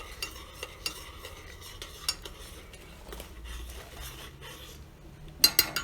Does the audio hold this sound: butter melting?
yes